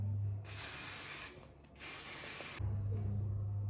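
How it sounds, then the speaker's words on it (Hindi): Hair spray misted onto finished hair while getting ready for a day wedding: two close, loud hissing aerosol bursts, each about a second long, separated by a short pause, with no talking over them. "अब इस पर थोड़ा सा हेयर स्प्रे कर लेते हैं"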